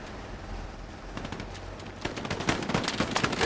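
Dense WWII gunfire in the shooter Hell Let Loose, a steady rattle of rifle and machine-gun shots that grows louder and more intense partway through, no one speaking.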